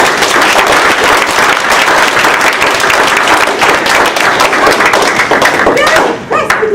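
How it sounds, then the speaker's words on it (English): Audience applause fills a Toastmasters meeting room, dense steady clapping with scattered thuds, loud throughout before tapering at the very end. "So let's give a big round of applause for that."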